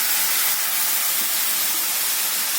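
Mushrooms dropped into a hot pan with onion, tomato and green chillies, giving a steady, loud, even sizzle with no breaks.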